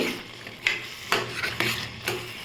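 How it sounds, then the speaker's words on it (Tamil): Fish being sautéed in a pan for fish podimas, heard as a run of sharp scraping strokes from a spoon against the pan about every half second over a low background sizzle, close up with no talk. "இப்போ நல்லா வதக்கிக்கோங்க"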